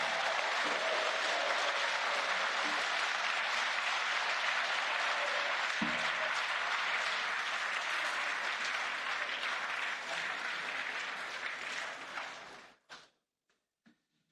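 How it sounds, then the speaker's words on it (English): Sustained applause fills a large parliamentary chamber after a vote, a dense steady clapping from many people that fades toward the end, leaving a few last scattered claps. "Potrete applaudirlo anche adesso."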